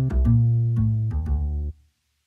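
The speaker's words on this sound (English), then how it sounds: "in my left hand, I have the acoustic bass guitar." Acoustic bass guitar voice on a Yamaha CLP 635 digital piano plays a short descending line of four or five deep plucked notes, warm and close, then cuts off into silence.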